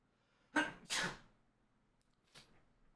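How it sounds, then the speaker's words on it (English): A person sneezes twice in quick succession, loud and close, followed by a softer sniff or breath a moment later, with no other sound around it. "I'm gonna sneeze, so give me 1 second."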